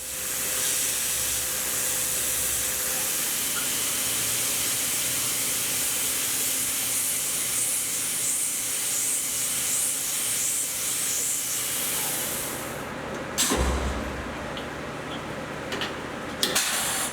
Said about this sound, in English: Spotting and drilling the pinholes for the Ratchet Pawls.